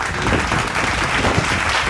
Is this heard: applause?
yes